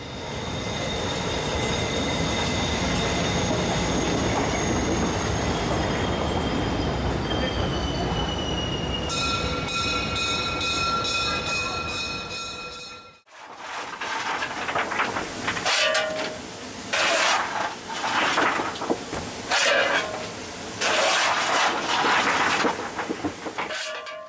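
A historic train pulls out of the Hagen station hall on the Ruhr valley line. Sustained wheel squeal rings for about 13 seconds, then gives way to rumbling, clanking carriages with sharp metallic bangs, close and echoing under the hall roof.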